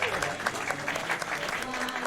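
A virtual crowd applauds and cheers in Tony Hawk's Underground, with steady clapping that fills the whole moment under a voice talking over the game.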